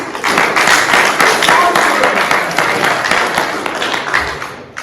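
An audience at an award show applauds in a steady, dense wash of clapping that fills the whole stretch at close, loud level, tapering slightly near the end.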